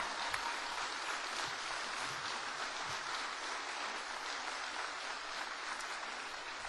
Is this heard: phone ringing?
no